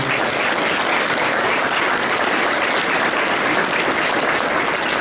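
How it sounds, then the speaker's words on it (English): An audience at an awards luncheon claps in sustained, dense applause, loud and close, continuing evenly with no pauses. "if I could just have a round of applause to these great people that have standing by"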